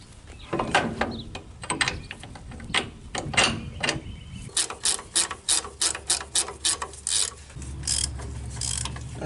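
A hand ratchet clicking as the bottom strut bolt is fitted on a 2004 Ford F150 being lowered, with rapid bursts of pawl clicks and scraping metal nearby, some steady background hum.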